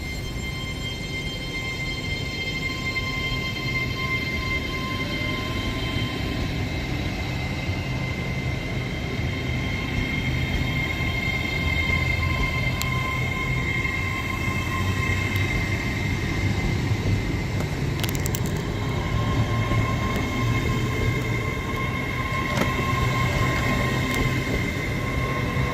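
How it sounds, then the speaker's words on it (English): An LNER Azuma train departing Peterborough station on the East Coast Main Line, a steady loud rumble and hum of the train pulling out, continuous throughout with faint squeals near the end. "getting ready to depart now will be the 12:13 LNER Azuma service to London King's Cross"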